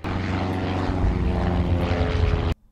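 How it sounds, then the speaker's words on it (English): Vintage propeller airplanes fly overhead at a World War I centenary memorial service, a loud, steady engine drone that holds for over two seconds before cutting off sharply. "a salute from some vintage airplanes overhead"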